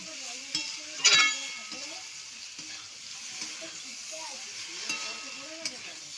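Mixed vegetables, including yard-long beans, brinjal and potato, sizzle gently in a pan while being stirred, with soft spatula scrapes and an occasional clink over a low frying hiss.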